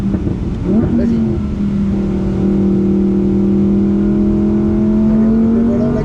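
A Ferrari accelerating on a driving-coaching track session, its engine note rising steadily in pitch over several seconds, loud and close from inside the car with a voice briefly talking over it.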